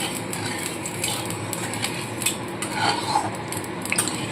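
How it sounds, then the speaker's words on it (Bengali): A spatula scrapes and clinks around a hot wok as mustard oil is spread for frying fish, with repeated metallic taps and scrapes over a soft steady hiss, close and moderately loud. "তেলটা দিয়ে ভালো করে নাড়িয়ে চাড়িয়ে নিতে হবে"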